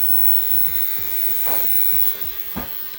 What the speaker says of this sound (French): j'utilise ce bain à ultrasons